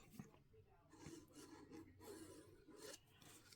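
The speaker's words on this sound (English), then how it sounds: "Give that a really good burnish." Paper is burnished along a mitered corner of a tri-fold folio, giving soft, close rubbing and scraping strokes in a quiet, steady rhythm.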